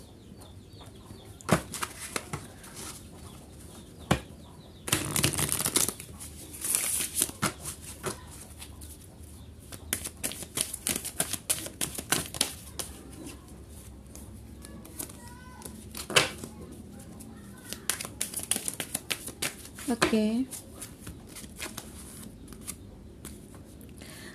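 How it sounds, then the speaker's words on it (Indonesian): Tarot cards being shuffled by hand, a run of crisp riffling and flicking bursts with scattered taps, heard close up under a voice that speaks now and then. "Kita akan shuffle lagi ya."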